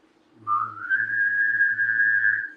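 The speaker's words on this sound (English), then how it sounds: "It's like a hum and a whistle at the same time." A person hums and whistles at once, producing a steady high whistle that rises and then holds over a low droning hum. It sounds close and clear, lasts about two seconds, and no one speaks.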